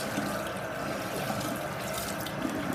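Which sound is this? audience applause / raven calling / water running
water running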